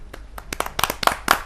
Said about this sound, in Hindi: आपकी जोरदार तालियां बजे ऐसी बड़ी कवित्री के लिए, बड़ी गीतकारा के लिए, अंजना अंजुम जी।